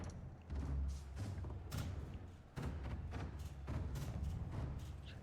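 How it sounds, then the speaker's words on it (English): Mortar fire and impacts in the video game Conqueror's Blade, a series of dull, heavy thuds landing at irregular intervals, fairly faint and distant over a low battlefield rumble. "It'll be a slow attrition battle right now as the mortars keep coming in."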